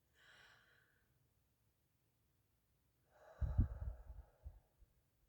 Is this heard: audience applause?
no